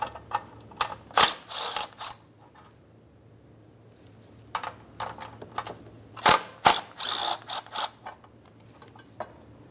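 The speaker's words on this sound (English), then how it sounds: "make our way to removing these two 13mm headed bolts holding this bracket" Ratchet backing out two 13mm bolts from a power steering bracket on a 2002-2009 Chevrolet Trailblazer, with close clicking runs in separate bursts and quiet gaps between them.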